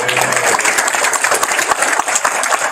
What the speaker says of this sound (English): Keep the applause going for West Care Pacific Islands,